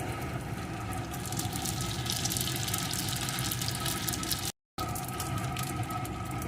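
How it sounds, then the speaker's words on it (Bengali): Sweet potato malpua fries in hot oil, a steady, loud sizzle and crackle that runs throughout, broken once by a short silent gap. "এইভাবে এপিট ওপিট করে ভেজে নেব"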